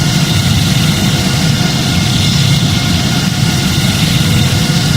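A Boeing 787-9's jet engines at takeoff thrust in the Project Flight video game make a loud, steady, close roar with a deep rumble that holds constant throughout.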